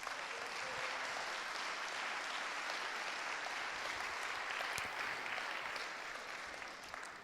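Steady, even applause rises from attendees at a municipal council installation meeting for a new mayor, a sustained wash of many hands clapping at moderate distance that tapers slightly at the end.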